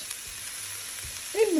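Sliced onion and pepper strips frying in a pan for curry noodles, a faint steady sizzle that ends in a brief louder burst, with no talking.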